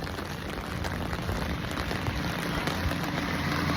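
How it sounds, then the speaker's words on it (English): Heavy rain pours down in a constant, dense hiss of drops striking surfaces, loud and close, steady throughout with no voices. "All of this rain."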